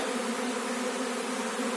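Honey bees fly around their hive, making a dense, steady buzzing hum that is close and continuous throughout, with no voices over it.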